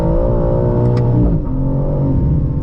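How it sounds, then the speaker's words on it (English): Loud, close engine roar of a 2025 BMW M4 CS accelerating under part throttle, a deep harmonic growl that climbs steadily in pitch with a brief dip midway. "That's just squeezing the throttle."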